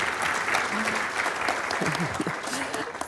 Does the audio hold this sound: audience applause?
yes